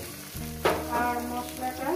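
Onions frying in a pan for a fish curry, a low hiss that swells after a sudden stir, with a soft hum underneath and a few scraping stirs, nearby and without talk.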